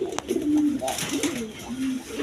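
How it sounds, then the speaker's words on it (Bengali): A black Indian Bombay pigeon, one of a large pair, gives a few close, throaty coos in a rolling, wavering run, with market murmur faint in the background. "এক পেয়ার ইন্ডিয়ান বোম্বাই কবুতর আছে একদম বিগ সাইজের ব্ল্যাক কালারের"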